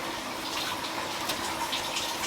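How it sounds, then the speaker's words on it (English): Water is poured steadily into a sink while rinsing plastic aquarium plants from a 180-gallon tank, giving a continuous, moderately quiet splashing gush with no talk. "Moving the water back over to the sink"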